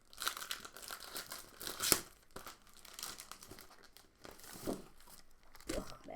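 Craft foil crinkling and crackling in a run of irregular crisp bursts, close and fairly loud, with a few sharper tearing crunches.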